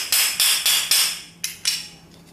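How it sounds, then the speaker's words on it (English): A transmission hammer with a half handle taps a seized screw on a VW carburetor, giving six sharp metallic strikes, four in quick succession and then two more spaced apart, loud and close with no talk. "I'm going to use the tranny hammer, half a handle. I want to tap this screw,"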